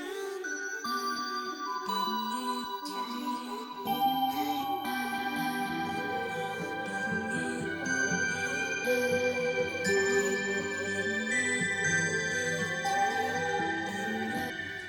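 Chopped vocal slices with pitch modulation and effects played on a MIDI keyboard, a dense, shimmering layered texture that thickens after a few seconds and runs steadily without talk.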